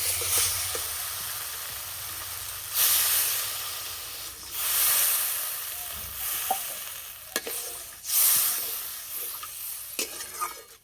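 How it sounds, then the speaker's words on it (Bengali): Mustard paste fries in hot oil for a tilapia curry, then water is poured in, producing several loud hissing, steaming bursts over a steady sizzle, with occasional spoon clinks against the pan as it is stirred. "সর্ষে বাটা দেওয়ার পর বেশি ভাজবো না, এবার জল দিয়ে দেবো।"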